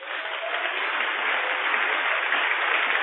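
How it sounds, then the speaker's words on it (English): Church congregation clapping hands during worship in Mampong, Ghana, a dense, steady wash of many hands clapping together, loud and continuous with no break. "Clap your hands for Jesus."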